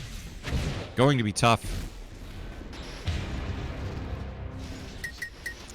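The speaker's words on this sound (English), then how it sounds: "going to fire off some rockets, shooting towards Headcase." Rockets fired in Unreal Tournament 4 during an elimination league match, a pair of loud booming blasts close together early on, followed by softer game noise while a commentator talks over it.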